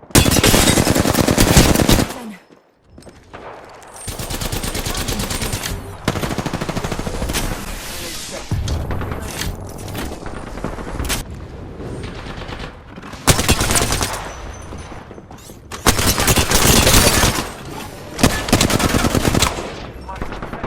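Apex Legends gunfire: loud, close bursts of rapid automatic shots separated by brief lulls, with some sustained fusillades and scattered quieter shots between them.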